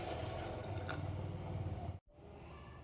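Water pours into a pan of green chickpea curry in a steady, close gushing stream that stops abruptly near the end, followed by a faint residual trickle.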